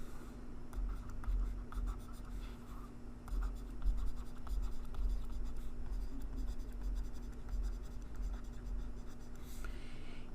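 Pen or marker writing out a short list of numbers on a surface, a run of close, quiet scratchy strokes and taps in uneven bursts over a low steady hum, with no talking.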